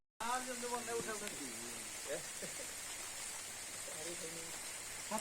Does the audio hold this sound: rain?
yes